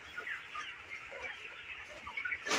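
Broiler chickens on a farm cluck continuously as a dense, steady flock chatter, with a slightly louder burst near the end.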